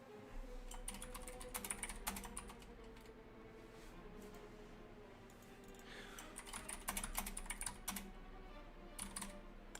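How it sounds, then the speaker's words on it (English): Fingers tap quickly on a computer keyboard that has been acting up, two bursts of rapid clicking with a short pause between them, heard quietly close up without speech. "I am having trouble with my keyboard."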